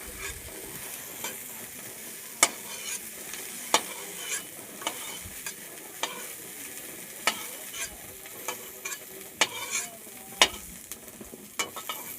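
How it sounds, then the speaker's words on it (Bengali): Cauliflower fries in a pan with a continuous sizzle, broken by sharp scraping clacks as a spoon stirs it at irregular intervals. "আমার ফুলকপিটা ভাজা হয়ে গেছে"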